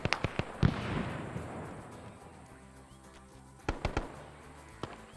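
A frag grenade goes off in a Vietnam War video game: one sharp blast with a rumbling decay, framed by a few quick distant pops and later bursts of fire, all fairly faint.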